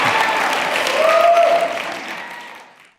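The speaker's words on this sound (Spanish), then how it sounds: "Apláudame cuando quieran." Audience at a church debate on keeping the Sabbath breaks into loud, dense applause that holds steady, then tapers off and fades to quiet by the end.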